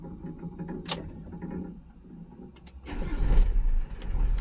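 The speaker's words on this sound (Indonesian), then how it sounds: "Kita hidupkan" A car engine cranks and catches, rising into a louder idle after a few seconds of mechanical clicks and rattles inside the vehicle.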